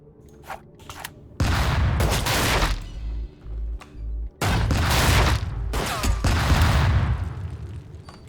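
Bursts of gunfire from a unit in the tactical video game Tastee: Lethal Tactics, several loud sustained volleys with booming impacts, separated by short quieter gaps.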